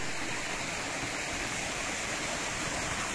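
Fresh mountain stream water tumbles through rapids in an even, continuous rushing hiss, close and unbroken, with no talking.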